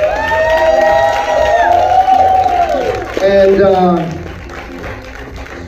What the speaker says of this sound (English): Y'all make a nice round of applause for Mama Patrice and the family of Nico Washington.